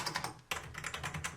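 Quick, steady clicking of a computer keyboard being typed on while soaked in water, a dense run of close keystrokes with a short gap partway through.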